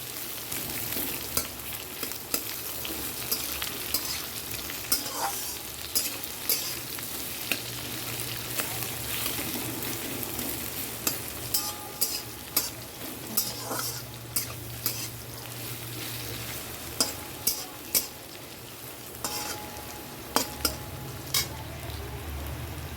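Continuous sizzling of potato, onion and ridge gourd frying in a pan, with repeated scraping stirs and light clinks of a utensil throughout, no talking.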